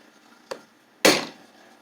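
A hammer strikes a punch against an IC core to mark a drill hole, one light tap followed by a single louder metallic blow, close and sharp, with a short ringing decay.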